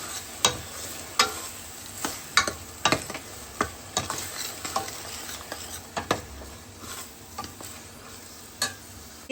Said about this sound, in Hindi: ये मेरे जो है पक रहा है, तो इसके अंदर सिर्फ पाव भाजी भी फिलहाल मसाला डालूंगी